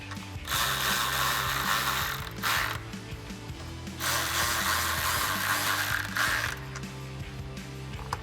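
A ratchet clicks in quick bursts while tightening the stock mounting hardware on a Morimoto XB LED headlight with black housing on a 2018-2020 Ford F150, with three or four loud spells of ratcheting separated by short pauses.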